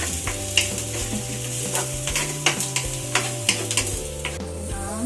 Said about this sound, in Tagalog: At ito ang kanyang ginigisa. Ang baggy beans.